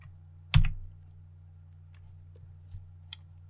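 A single loud key press on a computer keyboard, a near sharp click at the start, followed by a couple of faint taps over a steady low hum.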